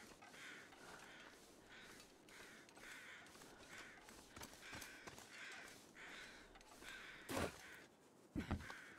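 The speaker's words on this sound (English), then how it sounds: "Caw, caw, caw." Crows caw in the wintry wilderness of The Long Dark survival game, several harsh calls spaced through a quiet ambient wind bed, with a louder burst near the end.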